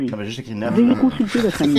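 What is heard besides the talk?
None of the usual background noises is heard.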